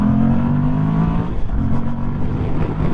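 Moto Guzzi V85 Strada motorcycle pulling away after a tight bend, its engine droning loud and close with a steady rising pitch and a brief dip midway.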